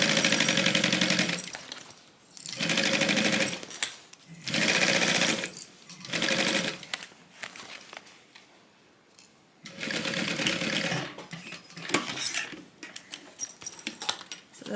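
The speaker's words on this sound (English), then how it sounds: "we're just going to base this down with a 1/8 inch seam allowance" A sewing machine basting a tote bag seam at a 1/8 inch allowance runs in several short, close bursts of rapid stitching separated by brief pauses and handling noises.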